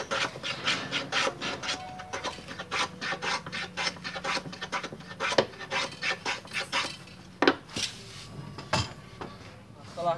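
A wooden lining strip for an acoustic guitar is shaved by hand along its curved line, giving repeated rasping strokes in an irregular rhythm, close and moderately loud, with a few sharper knocks.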